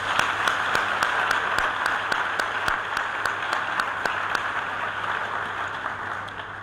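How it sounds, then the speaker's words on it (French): Audience applause at a ceremony, steady dense clapping with a few sharp single claps standing out in a regular pattern, under a faint constant hum. "Donc je finis simplement par ces applaudissements."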